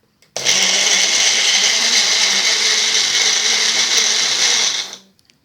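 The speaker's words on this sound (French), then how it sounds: "Voilà, donc on va mixer." An electric blender whirs a milkshake of Nestlé milk and frozen milk, running loud and close at a steady pitch for about four seconds before spinning down and stopping.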